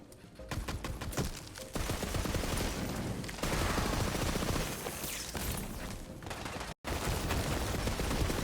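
Sustained rapid gunfire in a first-person shooter video game, the shots aimed at a liquid cooling component, loud and continuous with a brief dropout near the end.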